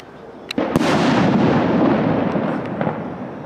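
Fireworks go off in Valencia: sharp cracks and pops are followed by a loud, rumbling explosion that slowly fades, with a few more faint pops at the end.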